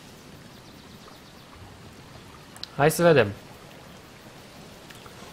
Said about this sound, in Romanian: Plouă și nu mi se stinge torța.